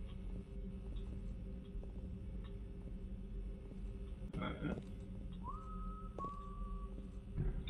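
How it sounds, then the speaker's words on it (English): A person whistles outside during a night shift: two short, clear, steady-pitched notes over low background noise. "you gotta whistle like that."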